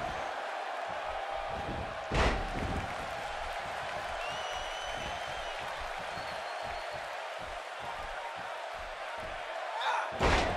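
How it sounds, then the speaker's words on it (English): In a WWE wrestling video game, a wrestler's body slam lands as a sharp heavy impact over a steady arena crowd roar, with a second similar thud near the end. "And she slams her back down."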